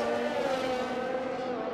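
A race car in a racing video game brushes the wall, with a steady high engine whine and a scraping, squealing tone, loud and continuous for a short moment.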